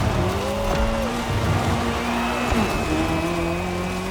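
Race car engine driving in The Crew video game during a Red Bull motorsports event, a steady loud engine drone with shifting pitch lines as it accelerates, with faint tire noise and no talk.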